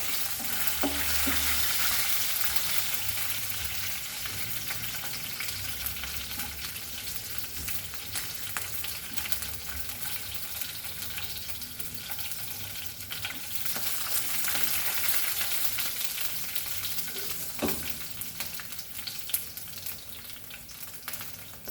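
Six or seven garlic flakes fry in hot oil in a pan, giving a steady, dense sizzle that runs unbroken throughout, with a faint scrape or stir now and then.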